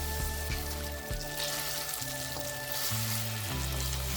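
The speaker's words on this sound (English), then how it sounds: "I can remove them now and add in shallots and tofu." Shallots and tofu frying in a pan for Thai pad thai, a steady soft sizzle running throughout beneath sustained background music notes.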